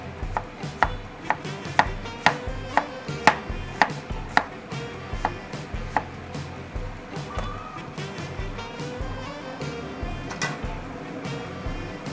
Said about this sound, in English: We're gonna start cutting the onion.